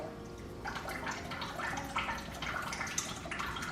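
Water from a kitchen tap runs in a steady, moderately loud hiss, with small splashing and dripping textures, while a finger is wetted to seal marzipan on a Battenberg cake.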